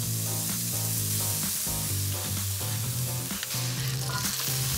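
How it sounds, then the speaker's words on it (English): Steady sizzling and crackling of sausage patties frying in a hot pan, continuous throughout, with music playing underneath. "I'll cook these on both sides until they're browned and fully cooked through and extra melty. Sizzle, sizzle, sizzle."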